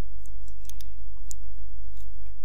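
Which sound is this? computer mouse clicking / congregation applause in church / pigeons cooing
computer mouse clicking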